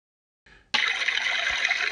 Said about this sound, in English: here you can see how the water comes off from the top of the slick plate